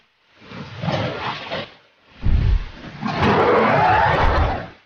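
Indoraptor dinosaur toy from the Jurassic World line lets out a loud electronic roar in two bursts, a shorter growl followed by a longer, sustained roar with a rising screech layered on top.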